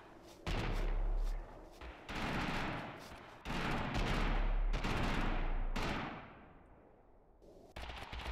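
Video-game gunfire comes in loud, close bursts of rapid automatic shots with short pauses between them, and a quieter trailing stretch follows before a final burst.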